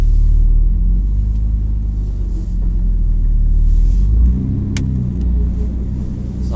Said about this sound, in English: now I'm in first, and I'm going to let the clutch out.